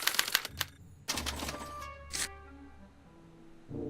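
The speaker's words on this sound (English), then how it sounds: "they're relayed to this special typewriter, which prints out a punch card that represents the subject's mind map" In the Back to the Future video game, a special typewriter prints out a punch card with a burst of sharp mechanical clacks and strikes, then a pause, another rapid clatter and a fading mechanical hum, alone without voices.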